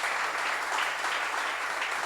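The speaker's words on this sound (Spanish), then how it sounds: "Les pedimos un aplauso para el mago, para Rubén y para el ruso." Audience applause for a magician and guests at a live talk event about football, a steady, dense wash of clapping throughout with no voices.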